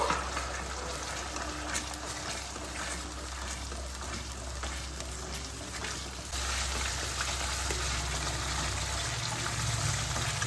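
Dry spice paste frying and being stirred into a charapona fish curry, giving a steady, even sizzle throughout with no voices.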